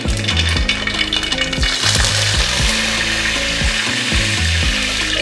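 Mustard seeds popping in hot coconut oil while cooking broken wheat upma, a dense, loud, crackling splutter with rapid irregular pops throughout.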